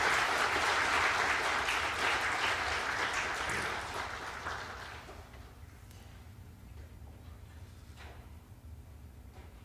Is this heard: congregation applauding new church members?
yes